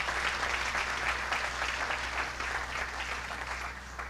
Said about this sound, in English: Give them a big, big round of applause.